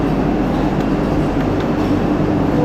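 An Indian passenger train rumbles steadily, a dense, loud rolling roar of wheels and carriage noise that fills the whole moment without any talk.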